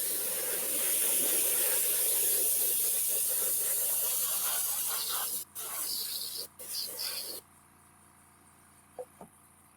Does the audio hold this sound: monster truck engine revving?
no